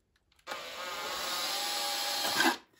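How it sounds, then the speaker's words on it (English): A hole cutter drilling into plasterboard, a steady whirring grind up close that starts suddenly, holds for about two seconds and then winds down. "So drill this out"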